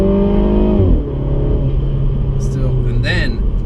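A Mini Cooper S hatchback engine hums in mid mode with a steady, close rumble that shifts in pitch partway through, while someone talks over it.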